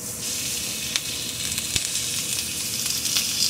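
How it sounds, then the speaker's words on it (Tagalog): Ground pork frying in a pan with eggs and a little sugar, a continuous close sizzle with occasional crackles and pops. "Lagay natin ang ating giniling."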